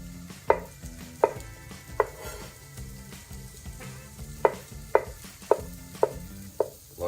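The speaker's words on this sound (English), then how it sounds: "So also 100 grams of button mushrooms, and we are just going to slice these." Button mushrooms are sliced with a knife on a board, about nine crisp, close chops at uneven intervals over a faint background hum, with no voices.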